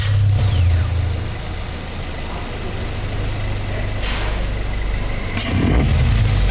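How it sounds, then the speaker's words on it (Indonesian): A Suzuki Jimny engine runs with an open air filter, a steady loud low intake drone with a deep rumble throughout and a swell of revving near the end, with no talk. "Kita cobain suara air intake-nya dulu nih."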